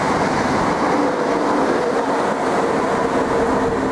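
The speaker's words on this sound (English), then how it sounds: "the train's about to pass through" A train passes through a station in southeast London, a steady loud rumble of wheels and carriages sustained throughout with no voices.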